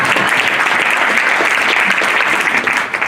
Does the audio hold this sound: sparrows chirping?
no